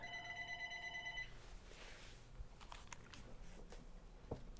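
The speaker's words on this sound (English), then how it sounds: "that's the phone." A telephone rings briefly with a faint tonal trill, then gives way to quiet room noise and soft scattered taps, with no speech.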